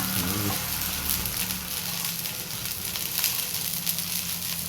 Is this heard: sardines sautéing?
yes